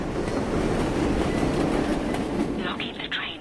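A train rumbling steadily in Wolfenstein: The New Order, with dense, loud rolling noise and clattering wheels, then a brief metallic rattle near the end.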